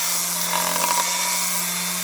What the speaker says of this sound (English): I'm going to go ahead and start sanding it down on the middle.